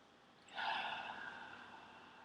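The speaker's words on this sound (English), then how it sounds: "Breathing." One slow, deep breath, an audible inhale that eases into a long soft exhale, close and quiet during a guided meditation.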